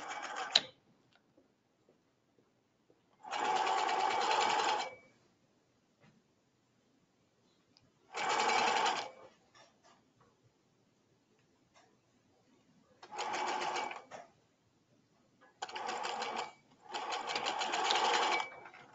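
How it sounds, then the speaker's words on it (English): A sewing machine restitching along an existing seam line on a men's ballet shirt, running in five separate bursts of steady rapid stitching, each a second or two long, with quiet pauses between them. "So now we're just restitching on the line that we've already stitched."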